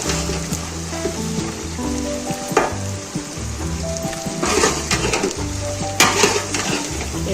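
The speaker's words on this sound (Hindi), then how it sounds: "अब भिंडी के साथ हम प्याज को अच्छे से फ्राई कर लेंगे।" Okra and onions frying in oil for masala bhindi make a steady loud sizzle, with stirring scrapes and occasional clinks of a spatula against the pan.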